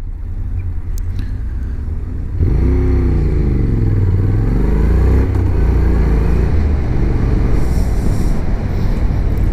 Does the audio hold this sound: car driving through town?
yes